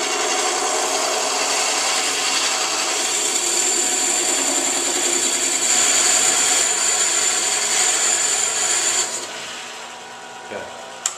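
A wood lathe turning a segmented MDF vase, heard as a steady, close whirring and rubbing drone that runs unbroken for about nine seconds and then winds down.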